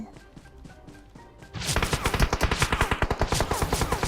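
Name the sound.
gunfire in video game PUBG Mobile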